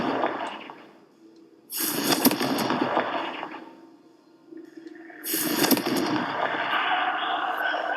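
Confringo explosion spells cast in the video game Hogwarts Legacy: two loud, sudden blasts a few seconds apart, each trailing into a sustained crackling roar.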